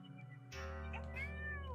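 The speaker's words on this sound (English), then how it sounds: "Josie is a cat. A grey tabby cat that likes to poop." A grey tabby cat in a video game meows loudly and clearly with a rising, drawn-out tone, standing alone over a steady low background drone.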